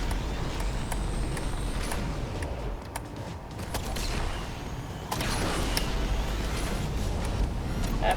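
Racing-game audio from Asphalt 8: Airborne: a continuous engine roar with bursts of whooshes and crash-like clatters layered over it, steady and fairly dense throughout.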